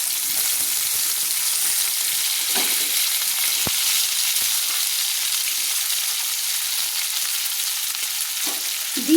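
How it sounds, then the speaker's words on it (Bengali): Long potato strips fry in hot oil in a pan for a mourola fish curry, a loud, even, continuous sizzle with a couple of faint stirring scrapes. "এবার আলুগুলো আমি 1 মিনিট কিন্তু তেলে ভেজে নিচ্ছি।"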